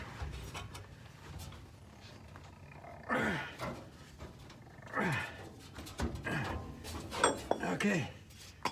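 A dog growls and lets out several rough barking bursts at mid distance, spaced irregularly over a low background, near a Kenworth K100 cabover truck.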